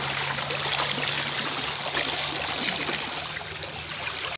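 Rainwater flows steadily through a flooded village on a rainy day, a continuous close, fairly loud rush of running water that stays even throughout, with no talk.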